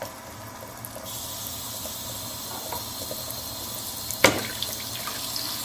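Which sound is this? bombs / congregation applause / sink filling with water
sink filling with water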